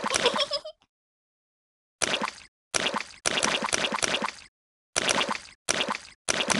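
Wet plops and squelches from jumping in muddy puddles in a Peppa Pig video game, close and loud, arriving in short bursts after a long silent pause.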